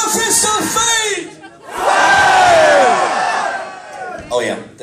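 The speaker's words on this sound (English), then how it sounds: "when I raise the Fist of Fate, you scream as loud as you can" A big live metal-concert crowd roars a long, loud sustained shout on cue, swelling up after a brief gap and holding for about two seconds before trailing off, with a few scattered yells at the edges.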